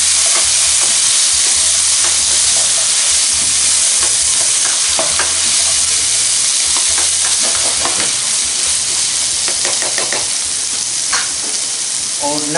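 Finely chopped tomatoes fry loudly in a pan for bhindi masala with a constant hiss and crackle. A spoon stirs and scrapes in bursts, and the low rumble of a stove or fan runs underneath.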